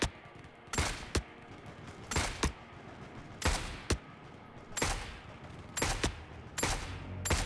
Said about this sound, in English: That they're getting shot at.